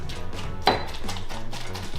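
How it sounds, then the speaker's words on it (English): Utensil stirring and mashing guacamole with tomatoes in a bowl, producing soft rhythmic squishing and a sharp clink against the bowl, close and brief. "Stirring, crushing."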